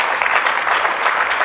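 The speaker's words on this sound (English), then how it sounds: "Can you just clap hands for God," A church congregation claps hands in praise, a dense steady patter of many hands filling the room for a brief moment with no voices over it.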